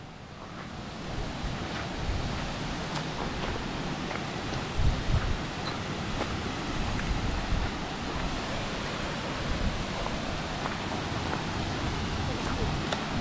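A waterfall beside the Ambon–Masohi road gives off a continuous, dense roar of rushing water that stays steady and close throughout.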